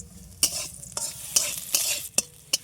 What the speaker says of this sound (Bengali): রসুন আর তাকে একটু ভাজা ভাজা করে নেব